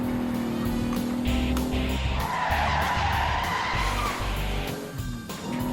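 A car is driven hard with tires skidding and squealing amid a loud roaring engine, the sound sweeping and surging for several seconds before easing off near the end.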